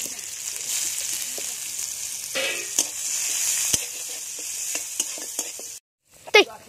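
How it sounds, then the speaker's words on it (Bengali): Onions sizzle and fry steadily in a pan for a Bengali bhola fish curry, with a spoon scraping and stirring through them in short bursts, close and clear, before a brief pause and a final clatter. "প্রথমে দিয়ে দেবো পেঁয়াজ"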